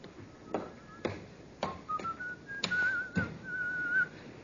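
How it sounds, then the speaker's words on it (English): A man whistles a wandering tune close by, thin sustained notes rising and falling, while sharp footsteps or knocks strike at intervals beneath it. "It's the check you've been waiting for, that fella there, whistling."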